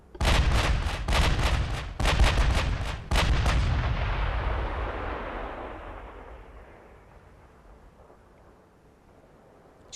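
Heavy naval gun salvos in the warship battle game Ultimate Admiral: Dreadnought: a rapid cluster of loud booming shots over the first three seconds, then a long rumbling roll that fades away, with no one talking.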